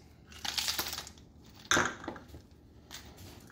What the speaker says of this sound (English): Then we're gonna add the ice.